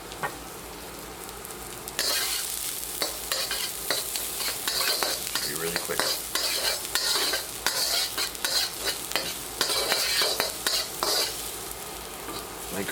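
Garlic and ginger hit hot oil for blue crab fried rice, starting with a sudden loud sizzle that keeps frying steadily, broken by repeated scrapes and clacks of stirring throughout.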